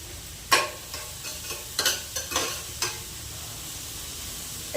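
Onions and green chillies frying in a pan for mutton curry, a steady close sizzle punctuated by several sharp scraping stirs of a spoon against the pan.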